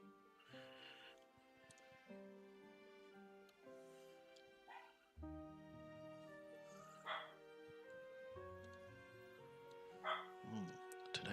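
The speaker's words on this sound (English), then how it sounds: "the doggos doing a woof. A lot." Several dogs bark, yip and whimper repeatedly at delivery drivers, in short irregular bursts that sound slightly distant, over a steady indoor background with no clear talk.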